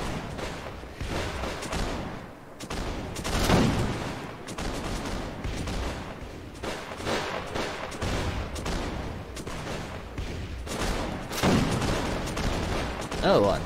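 Bursts of gunfire in the Warsword Conquest game, Winds of Magic patch, crackle in repeated volleys at mid distance, with someone talking over the shooting.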